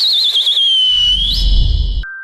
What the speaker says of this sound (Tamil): Start the whistles.